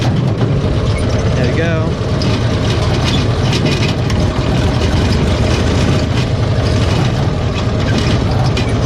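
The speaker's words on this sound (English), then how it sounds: "Might need to throw it in second, turn on the key." A Cushman Truckster utility vehicle's engine runs at a loud, steady idle close by, a continuous low rumble throughout, with a brief spoken remark over it.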